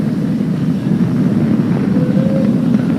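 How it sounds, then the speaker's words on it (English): A SpaceX Falcon 9 rocket carrying a crewed Dragon capsule lifts off, heard as a loud, steady, broadband rumbling roar with no clear breaks across the whole span. "Flying crew on board Dragon and Falcon 9, and look at them go!"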